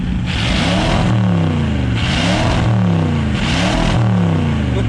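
A 1958 Chevy Biscayne engine, run after years of neglect, revs up three times through a deep exhaust, each rev rising then falling, loud and close, with rumbling idle between bursts.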